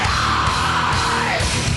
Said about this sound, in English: That was a good scream right there.